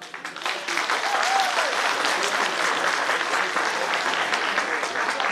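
Warm, sustained applause from an audience at a folk festival greets very young dancers in traditional costume, a full and even clatter of many hands that swells quickly and holds steady.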